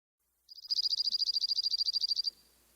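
A dark-eyed junco sings a recorded trill, one rapid, evenly spaced run of about twenty bright, identical notes that carries on for nearly two seconds. It sounds clear and close against near silence.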